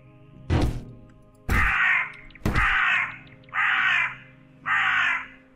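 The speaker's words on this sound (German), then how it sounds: "Die Vögel kehren zurück." Crows cawing in the video game Green Project: a sharp thunk, then several loud, harsh caws repeating at steady intervals, close and clear.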